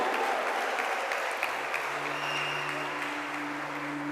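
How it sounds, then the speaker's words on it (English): A crowd at an 11th-grade graduation ceremony gives the students a sustained round of applause, fairly even and moderately loud, with a steady electrical hum beneath it. "Let's give these students another round of applause."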